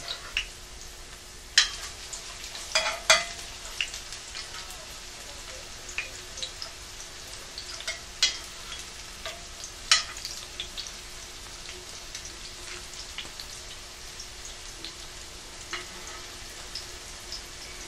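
A cauliflower fritter fries in a pan with a steady, close crackling sizzle, and scattered louder pops and spatters break through it.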